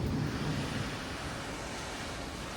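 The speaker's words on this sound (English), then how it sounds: "Well, you can hear the ocean." Ocean waves and wind are heard from a cruise ship balcony at night, a constant broadband roar and rush with no distinct breaks, loud and steady, with gusty wind on the microphone and no speech.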